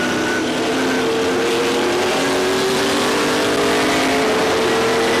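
Race car engine in the Days of Thunder video game, heard from the onboard camera: a steady, loud droning whine with slowly rising and falling pitch as the car runs through the 2003 season race, with no talk over it.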